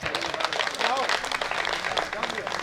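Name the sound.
audience applause welcoming poet Atul Bajpai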